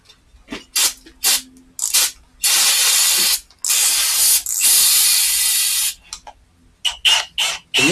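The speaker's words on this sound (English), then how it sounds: "Gonna hit that little bit of brake clean first." Brake cleaner sprayed in repeated bursts from an aerosol can while working on a Mazda Protege5 engine bay, alternating short hissing spurts with several longer sustained blasts, loud and close, with no talking.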